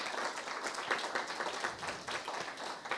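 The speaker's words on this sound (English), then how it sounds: "Give another round of applause for Dawn" Steady applause from a crowd, a dense wash of clapping hands that holds at an even level throughout.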